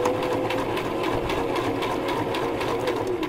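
A sewing machine top-stitches fabric in a loud, steady, continuous run, its rapid needle chatter close and uninterrupted throughout.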